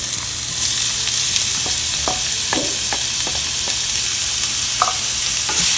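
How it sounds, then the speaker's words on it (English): Garlic and onions fry loudly in a pan for vegetable fried rice, a constant hiss with a few scraping stirs against the pan. "we will add in the onions"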